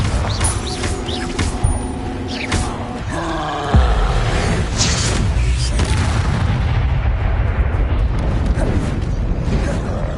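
Explosive Bombarda and Confringo spells cast in Hogwarts Legacy, a loud deep booming blast rising from layered game noise, followed by a sustained low rumbling roar that fills the remaining seconds.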